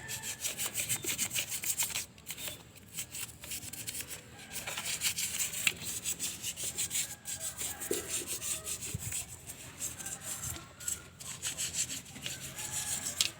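An old toothbrush scrubs cleaning liquid over an RC100 machine, giving continuous fast rubbing and brushing strokes up close with brief pauses.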